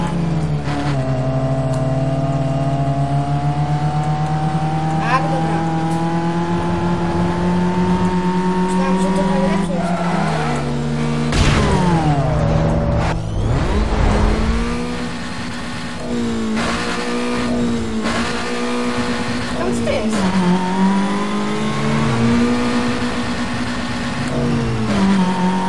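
A racing car in Need for Speed Most Wanted, its engine revving and climbing through gears with repeated pitch drops at shifts and a brief tyre or impact burst midway, loud and close, with talk over it.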